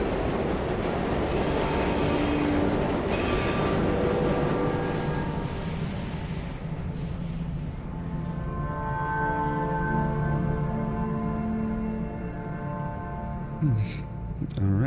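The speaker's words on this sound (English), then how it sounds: "We have reached the end of the line where this train will terminate." A train in the video game Luna Abyss rolls into the end of the line with a heavy rumble, squealing wheels and clattering carriages. The noise gradually settles into a lower, steadier hum as the train comes to a stop.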